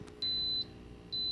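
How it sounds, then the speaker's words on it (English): A pressure cooker timer beeping while making mashed potatoes, two short high electronic beeps, clear and close, with a quiet gap between them. "So the timer just went off"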